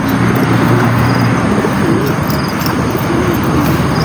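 Birds coo steadily in low, repeated calls over a constant rumble of background noise, with faint chirps mixed in.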